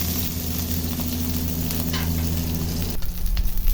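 Garlic and onions frying in a pan for a tanigue sinigang, a steady loud sizzle throughout that turns rougher and more crackly near the end, with no talking.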